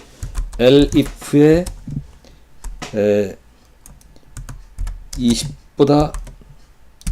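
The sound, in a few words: typing on a computer keyboard while coding Python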